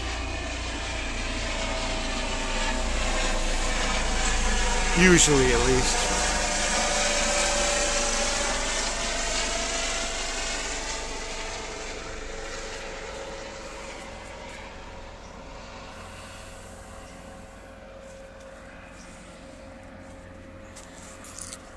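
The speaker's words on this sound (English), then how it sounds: "there's the medevac helicopter." A medevac helicopter passes overhead near a hospital: a broad, droning rotor and engine roar that swells loudest early on, then slowly fades into the distance. Someone speaks briefly over it.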